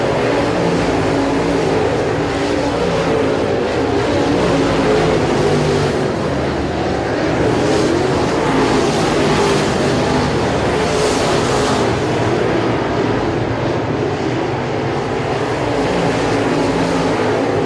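Dirt-track race cars battle three wide at Sabine Speedway during a points race, a steady loud engine roar filling the whole stretch with broadband rumble and no pauses.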